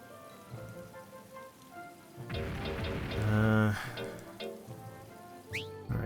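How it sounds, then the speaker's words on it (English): Rain falls in the Monster Rancher video game, a soft steady patter and hiss that swells for a moment midway, with faint game tones beneath and a brief chime near the end. "It's raining."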